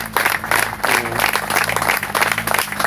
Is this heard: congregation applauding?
yes